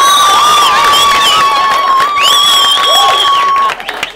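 An audience cheers loudly for modern dance teams at a live competition, shrill whoops and shouts riding over a dense wash of crowd noise that fades out at the end.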